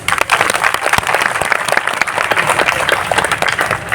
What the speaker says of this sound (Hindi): 1 मई 2025 का जोरदार ताली सम्मान करेंगे